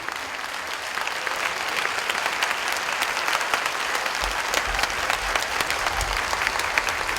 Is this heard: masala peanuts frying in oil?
no